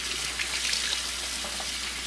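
Hot water runs steadily from a tap while a dirty E-Cloth cleaning cloth is rinsed under it, a continuous close gushing hiss with no talking.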